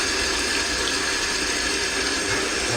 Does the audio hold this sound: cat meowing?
no